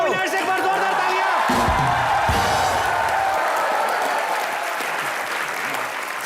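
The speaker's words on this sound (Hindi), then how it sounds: "एक बार जोरदार तालियां।" A studio audience on a Hindi comedy show breaks into loud, sustained applause with a few cheers and whoops, dense clapping filling the room and easing slightly toward the end.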